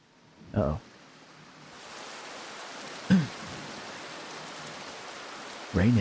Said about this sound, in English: Rain in Ishgard?